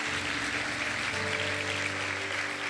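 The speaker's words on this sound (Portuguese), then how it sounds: "Vamos aplaudir o nome do Senhor." A church congregation applauds steadily throughout, the dense clapping layered over sustained organ or keyboard chords.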